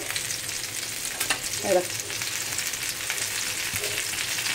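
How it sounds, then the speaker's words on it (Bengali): Eggplant slices frying crisp in oil in a pan, a constant close sizzle and crackle with a few soft knocks and spatter bursts, no one talking. "মচমচে বেগুন ভাজা।"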